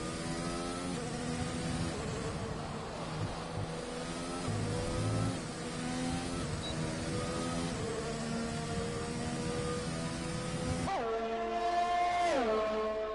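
Several race car engines roar in the F1 2020 video game at Monza, with layered sustained engine tones and shifting revs, and one car accelerating sharply near the end.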